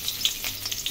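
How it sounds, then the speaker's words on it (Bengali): Chopped onion hits hot oil in a wok and sizzles loudly, with a brief crackling spatter and stirring scrapes close by, no talking. "এখন আমি পেঁয়াজ কুচি দিয়ে দিব"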